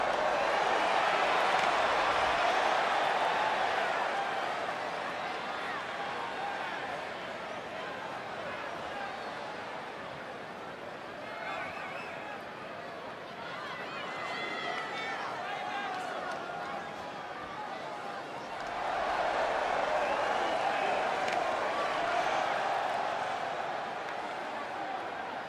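An arena crowd in the WWE 2K20 video game roars and cheers steadily, swelling louder near the start and end, beneath ongoing commentary.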